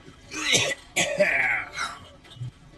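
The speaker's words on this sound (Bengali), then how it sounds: "তারপর একটু কেশে নিয়ে বেশ গম্ভীর গলায় বললেন" A person coughs a couple of times, then clears their throat with a long, rough rasp, close and fairly loud, with no speech.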